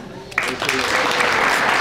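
An audience claps at a St. Paul neighborhood honor roll ceremony: a quick build of steady, dense applause that starts right after a brief pause and holds, with faint talk underneath.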